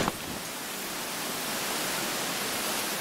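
Wind roars steadily as a dense, even hiss in the hunting game theHunter: Call of the Wild, loud and unbroken throughout with no other sounds standing out.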